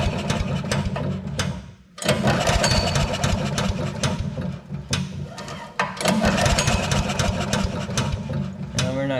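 A Briggs & Stratton engine on an Agri Fab Mow & Vac leaf vacuum is cranked by pull cord during a compression test, giving rapid rhythmic chugging bursts in several pulls separated by short pauses, close and fairly loud.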